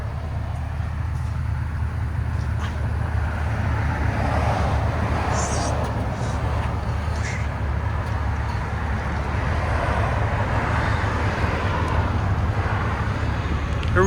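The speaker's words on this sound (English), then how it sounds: "we'll do it with valve open takeoff so you guys can hear the difference" A 2021 Ford F-250 with its 6.2L V8 and the exhaust valve open pulls away from a stop, a loud, steady rumbling drone running the full length without a break, with some wind and road noise mixed in.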